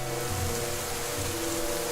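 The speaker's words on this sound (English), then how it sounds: "I do like how the rain started light and got heavier." Rain in the video game The Banner Saga 2 hisses steadily as a soft, even wash of falling drops, with low droning tones running beneath it and no voices.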